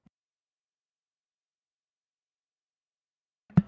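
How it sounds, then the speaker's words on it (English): A single sharp sneeze bursts out close and loud near the end, after a long stretch of near silence. "I gotta sneeze. Hold on."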